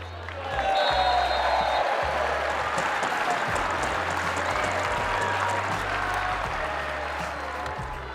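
Footballers applauding the fans after a match: steady broad clapping from a crowd fills the clip, with low rumbling background noise and faint voices mixed in throughout.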